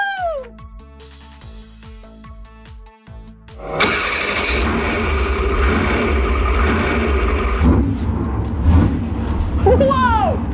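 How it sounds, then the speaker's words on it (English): Monster truck at a Halloween monster truck jam, its engine roaring in loudly after a few seconds of music and sustaining a heavy, revving rumble to the end. "Do you hear that? The engine is so loud!"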